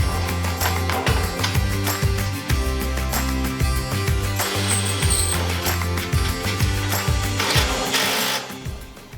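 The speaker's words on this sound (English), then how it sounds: "So I'm just going to drill holes from this side" An old, dull drill bit grinds and chatters with an uneven, clattering rhythm, close and loud, its motor pitch shifting as it works through material.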